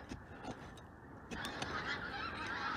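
Geese arriving for winter give repeated honks at a distance over steady outdoor background noise.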